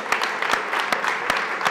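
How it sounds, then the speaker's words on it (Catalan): Sparse, scattered claps from a small audience at a political café talk, a few distinct hand slaps over a brief stretch with a soft murmur underneath. "Un aplaudiment."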